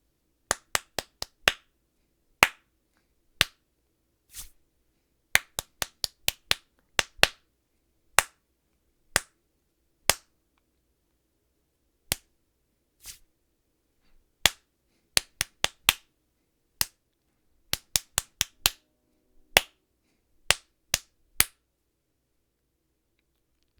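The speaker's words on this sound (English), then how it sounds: "I'm going to clap through each of these rhythms" Hands clap out simple rhythms, sharp isolated claps in uneven groups and single beats with clean silence between them, close and dry.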